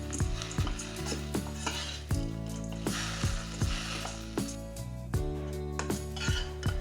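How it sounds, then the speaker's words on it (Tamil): Curry leaves sizzle and sauté in a hot pan over a low flame while a spoon stirs and scrapes the metal in regular strokes, steady frying noise underneath. "திருப்பி ஒரு நிமிஷம் ஸ்லோ ஃப்ளேமில் வச்சு நல்லா வதக்கணும்"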